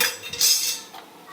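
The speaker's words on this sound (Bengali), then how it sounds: "একটু নাড়াচাড়া করে নিলাম" A metal spoon stirs ground chili, cumin, coriander and turmeric in a cooking pan, giving a few bright scraping clinks against the metal, with one louder knock in the middle.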